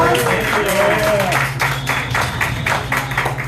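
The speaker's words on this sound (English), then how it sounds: "Can we give a round of applause to Eddie Vega for hosting" An audience breaks into applause, loud and sustained, with scattered claps and murmuring voices in the room.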